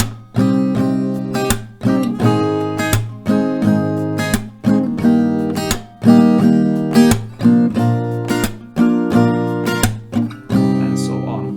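Acoustic guitar strums a song's chord progression in a steady down-up pattern with sharp percussive slaps, two strumming rounds per chord, loud and close with no voice.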